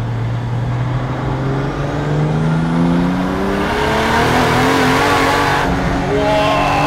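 A 2JZ-swapped Nissan Silvia S14 accelerates hard, its engine note climbing steadily in pitch through the revs, loud and close with a rough, roaring exhaust and no talk over it.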